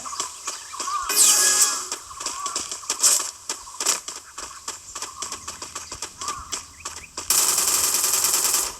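Gunfire from an online shooting game comes in rapid, crackling bursts and single shots, loud and close, with a harsher burst near the end. There is no talk over it.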